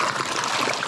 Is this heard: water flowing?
yes